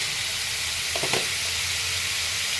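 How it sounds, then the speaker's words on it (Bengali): Spices fried and stirred in a pan with salt and sugar for a potol kofta curry, a steady broadband sizzle with a brief louder scrape of stirring near the middle, close and continuous, no voices. "এবার ভালো করে সমস্ত মশলাগুলো আমি কষিয়ে নেব।"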